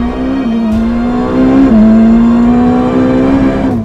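A Ferrari SF90 Stradale plug-in hybrid supercar revs loud and close, its engine tone holding steady, then climbing and shifting in a single sustained pull with no voices.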